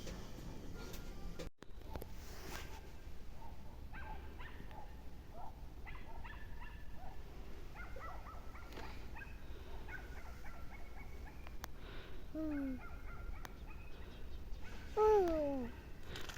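A neighbor's dog barks and yelps off in the distance, faint and intermittent against a quiet evening outdoor background, with a few whimpering yips near the end.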